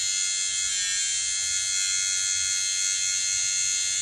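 Electric hair clippers buzz steadily and close by, a constant high whine with no pauses.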